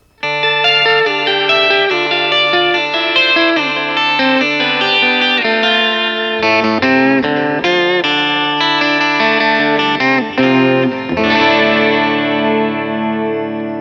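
A bright, shimmering twelve-string electric guitar rings out strummed chords and picked notes, loud and sustained, with no one speaking.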